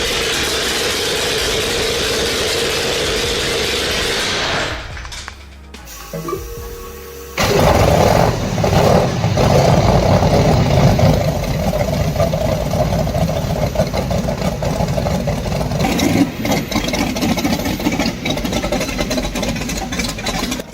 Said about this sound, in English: The Liberty 3-12, once bound to wings in sky, now pulses with fury on the ground.